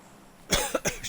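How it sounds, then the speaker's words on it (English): A person gives a short tickly cough of two or three quick bursts, close and fairly loud, after a moment of quiet room hum. "Excuse me, I've got a bit of a tickly cough."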